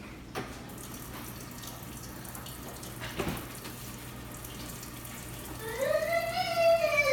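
Tap water runs steadily over gloved hands being washed after handling hot sliced tri-tip meat, a constant close hiss with a brief splash near the start and a rising whistle-like tone toward the end.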